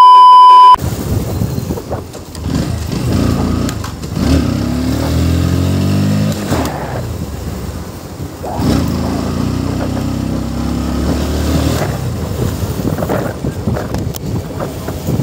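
A fully modified KTM RC 390 motorcycle engine revs loudly up and down in two long, rising surges, close by, with outdoor wind buffeting the microphone.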